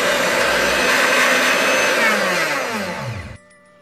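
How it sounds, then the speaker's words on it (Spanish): A steady electric whirring hum of a mixer beating butter runs continuously, loud and close, its pitch sagging slightly before it cuts off abruptly near the end. "Y esto lo vamos a batir con nuestra batidora."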